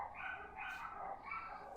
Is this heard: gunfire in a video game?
no